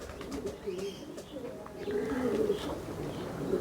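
Pigeons in a loft coo in soft, low, repeated rolling calls. Several birds overlap close by, with a faint voice in the background.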